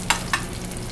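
Garlic softening in a hot pan ahead of the mussels, heard as a steady close sizzle broken by two brief clinks or scrapes of stirring.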